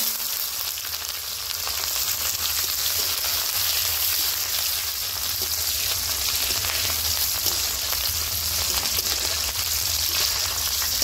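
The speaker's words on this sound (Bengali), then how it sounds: "পেঁয়াজ ভাজা ভাজা হয়ে গেছে," Chopped onions frying in a pan with five-spice seasoning for a mixed vegetable dish, sizzling in a dense, steady, close hiss that continues unbroken throughout.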